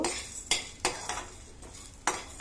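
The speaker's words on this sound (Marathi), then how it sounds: "तूप छान गरम झालं आता यात मी डिंक टाकून घेते डिंक छान असा फुलतो" Edible gum (dink) frying and being stirred in hot ghee in a pan: a series of about six rhythmic scraping spoon strokes over a faint sizzle, close and quiet, with no speech.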